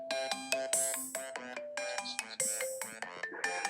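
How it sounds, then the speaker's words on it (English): The default iPhone timer alarm plays alone, a bright electronic ringtone of repeated short chiming notes in quick bursts, fairly loud and close. "It's one of the default iPhone sounds."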